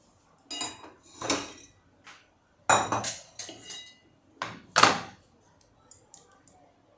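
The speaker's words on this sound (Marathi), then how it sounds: "फोडणीसाठी आपण गॅसवर पाळं ठेवलं आहे छोटं पाळं" A small metal tempering pan clanks and clatters onto a gas stove in several separate knocks, close and fairly sharp, with quiet pauses between them.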